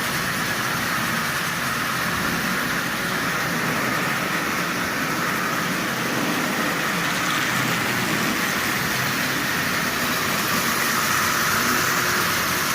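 An original Marx Mercury toy train runs while pulling 21 cars, producing a continuous dense whirring rumble and clatter that stays loud and even throughout, with no voices.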